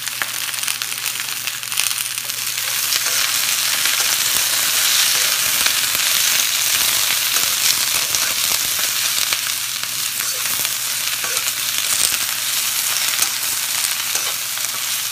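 Diced carrots, baby asparagus and bell peppers fry in a hot pan with a loud, steady sizzle that holds for the whole stretch, punctuated by faint crackles and stirring.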